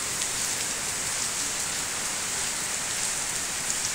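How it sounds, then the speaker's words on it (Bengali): Heavy rain pours down at Cumilla cantonment, a dense, even hiss of drops hitting the ground and pooling water on a slope, continuous and fairly close with no voices. "বৃষ্টি হচ্ছে প্রচুর পরিমাণ"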